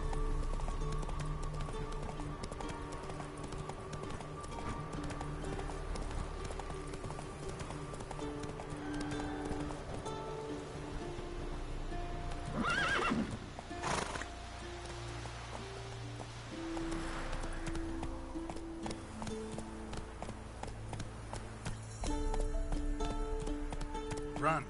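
Roach the horse in The Witcher 3: Wild Hunt, rapid rhythmic hoofbeats under game music, with a brief neigh and a flurry of combat noise partway through and a voice speaking.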